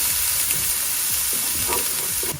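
Onions sizzle loudly in a hot pan, a steady bright hiss with faint stirring scrapes underneath, close and constant, with no one speaking.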